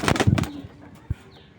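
Racing pigeons in a cage flutter with a loud burst of wing flapping at the start, then settle to faint rustling with a single soft knock near the end.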